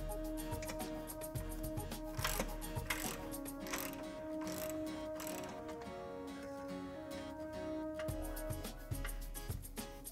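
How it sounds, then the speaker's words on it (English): Ratchet removing the upper air strut mounting bolts on a Porsche Cayenne during an air suspension to coil spring conversion, with steady quick clicking running throughout over a low background hum. "Remove the four upper air strut mounting bolts."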